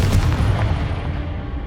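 A Confringo spell explodes in Hogwarts Legacy on PC: a single heavy, booming burst that rolls and decays over under two seconds, with no voices.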